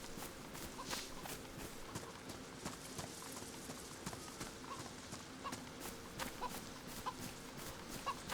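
Chickens clucking on a pig and chicken farm in the survival game DayZ, repeated soft clucks mixed with irregular footstep-like clops over a low background, moderately faint and with no speech.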